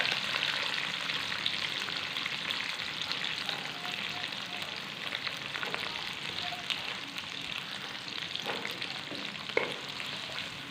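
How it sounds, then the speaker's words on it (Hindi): Onions frying in ghee in a kadai give a steady, close sizzle that holds throughout, with a few sharper pops breaking through near the end. "और कढ़ाई में हम घी डाल लेंगे। साथ ही हम इसमें प्याज डाल देंगे।"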